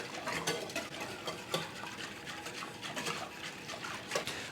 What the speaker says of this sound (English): Going to give the yeast mixture a quick whisk.